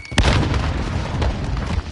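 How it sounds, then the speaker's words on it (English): A frag grenade blows up during an online shooter match, giving a sharp, loud boom followed by a rumbling, debris-filled roar that lingers for over a second and a half. "Throwing frag."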